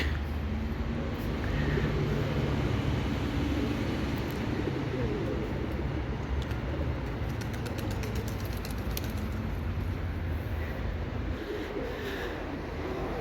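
Tumbler pigeons coo and flutter near a street, soft bird calls and wingbeats over a steady low rumble of traffic and engines, faint and continuous without speech.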